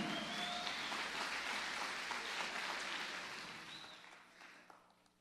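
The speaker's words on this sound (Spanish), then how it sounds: "dale ese aplauso al Señor también" Applause rises from a church congregation during a sermon, dense clapping that holds steady and then fades away toward the end, fairly quiet overall.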